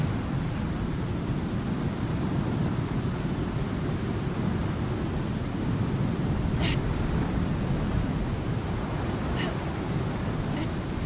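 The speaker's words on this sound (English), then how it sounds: "Storm is damaging your armor." Stormy weather in the survival game Icarus, a steady broad roar of wind and rain with thunder rumbling low throughout, constant and fairly loud, with a few faint brief high tones over it.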